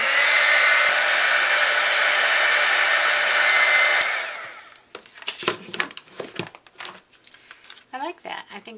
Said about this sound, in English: I plug in my heat tool